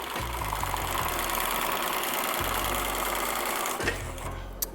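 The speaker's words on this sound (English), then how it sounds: "This also is a compound feed walking foot machine that does this." A compound feed walking foot sewing machine stitches fabric in a design studio, running in a steady fast mechanical chatter with a brief pause and restart near the end.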